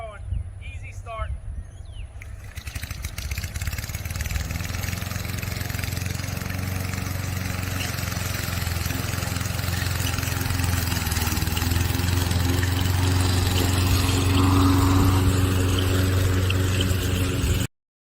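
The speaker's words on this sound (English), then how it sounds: "The 22-inch Toro lawnmower." A Toro 22-inch walk-behind lawn mower engine starts after a brief rustle and then runs at a steady, loud, close drone for the rest of the stretch.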